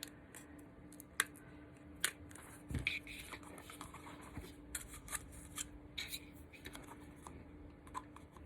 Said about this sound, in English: I'm going to cut a little edge out of this